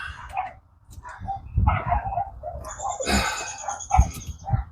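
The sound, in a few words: dogs barking in the background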